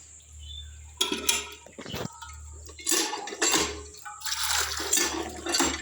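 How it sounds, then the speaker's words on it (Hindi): Water poured out for a cow to drink, with bursts of splashing and the clank of a metal vessel over a low steady hum, nearby and fairly loud, with no speech. "तो गाय को पानी पिलाते हैं,"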